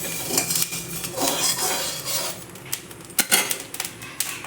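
Parboiled rice being stirred and roasted in a kadai, giving a steady run of close scraping and rattling from the utensil against the metal pan, with sharper clinks near the end and no talking.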